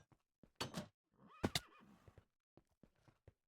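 Horse neighs in the video game Folksgarde: a short whinny, then a longer rising-and-falling neigh with snorts, followed by scattered light hoof clops, all close and isolated.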